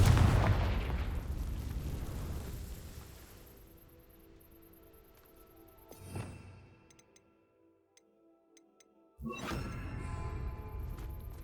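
A Confringo fire spell bursts in Hogwarts Legacy with a loud blast that fades over a few seconds, followed by faint ticks and then another sudden, sustained burst of game sound.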